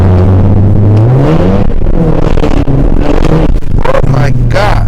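A tuned Ford Focus ST drives on a highway, its engine drone steady and loud up close with rising revs, wind and road noise throughout, while people talk over it.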